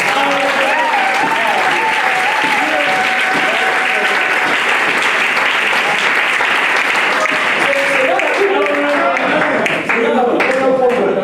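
A church congregation claps loudly and continuously in full applause, with voices shouting and cheering throughout.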